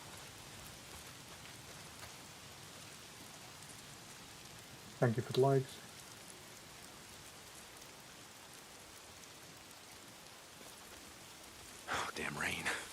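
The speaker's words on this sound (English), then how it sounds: "Oh, damn rain. If it's not the freaks, it's the goddamn rain. Why is it always raining?" Steady rain falls throughout an open-world zombie game, a continuous soft hiss of drops on surfaces, with brief bursts of someone talking over it near the middle and end.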